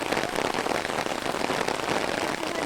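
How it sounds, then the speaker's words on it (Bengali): Heavy rain pours steadily over flooded fields, a dense, unbroken hiss of drops striking water and ground at close range, loud and even throughout with no voices. "এখন আবার বৃষ্টি এসে গেছে।"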